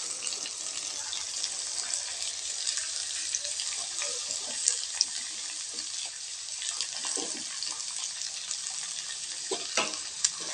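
Large sliced onions sautéing in oil for a tomato and coconut masala chutney, a steady broadband sizzle with occasional stirring scrapes, close and fairly quiet throughout with no talking.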